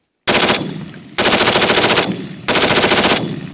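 An AN-M2 machine gun fires three loud, close, sustained automatic bursts, each a dense rapid chatter with a short pause between them.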